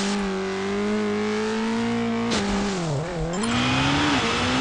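Water scooter in the Riptide GP 2 racing game boosting on turbo, a loud, continuous whining engine drone that rises and dips in pitch through a turn, with a splashy burst partway through.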